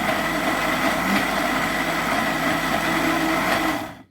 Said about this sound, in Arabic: هنحط بقيه الزيت بتاعنا بالراحه خالص ونشغل الخلاط بتاعنا